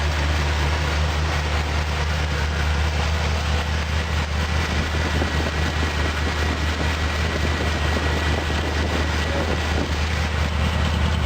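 Steady low idle of a 1978 Jeep CJ7 with a 304 V8 and dual exhaust, a constant close rumble with an even pulse and no voices.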